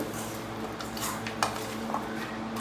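Steel cooking pots and a kadai clatter and clink as they are set down and moved on a village kitchen stove while preparing mutton curry, with a few sharp knocks over steady background hiss.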